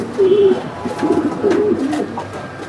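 A racing pigeon coos in a few soft, low, rolling calls close by, with short pauses between phrases and faint background noise behind.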